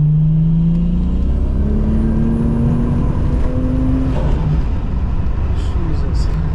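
A turbocharged Holden VL Calais making about 300 rwkw accelerates hard from a rolling start. The loud engine note climbs steadily in pitch with turbo whir throughout.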